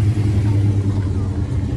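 A car rolls past at the 2024 Daytona spring Turkey Run car show, a loud, steady low engine rumble up close with a continuous mid-range drone throughout.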